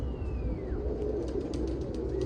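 Pigeons cooing softly in a low, rolling murmur over faint background ambience, with a thin whistle-like tone drifting past early on.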